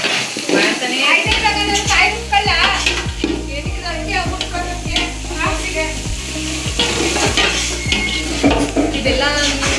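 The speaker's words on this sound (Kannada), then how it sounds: "ಗೋಲ್ಡನ್ ಬ್ರೌನ್ ಬರೋವರೆಗೂ ಫ್ರೈ ಮಾಡ್ತಾನೇ ಇರಬೇಕು" Sizzling frying in a pan for chicken pulao, with a spoon scraping and clinking against the metal in a steady repeated stirring rhythm, close and loud, while a person talks over it.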